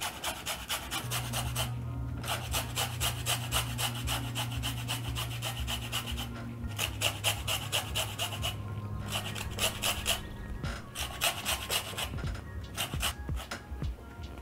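Lemon zest grated by hand on a household grater, a steady run of dense, raspy scraping strokes that continues through the whole stretch, close and fairly loud, with short pauses between passes.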